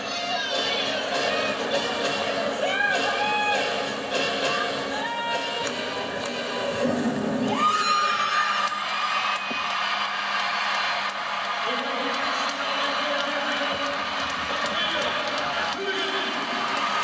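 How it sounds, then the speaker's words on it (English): Arena crowd at a women's gymnastics meet between Iowa State and LSU, a sustained roar of cheering and shouting that stays loud throughout, with a commentator's voice speaking over it. "The crowd is fired up."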